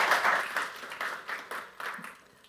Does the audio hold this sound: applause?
yes